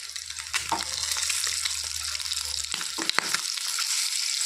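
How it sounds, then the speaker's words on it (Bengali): A continuous hiss of eggs frying in hot oil, with light crackles and a few sharp pops and clicks from a spatula. "খুবই সাবধানে সতর্কতার মাধ্যমে ডিমগুলো ভাজতে হবে"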